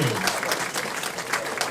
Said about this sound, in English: Not just regular clapping, but energy.